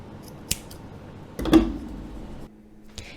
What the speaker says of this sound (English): And we can simply cut so that it's the same length as the pom-pom.